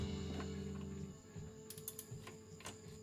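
A ratchet on an extension snugging down a transmission plug on an MK4 Golf, faint quick clicking bursts close by over a steady low hum.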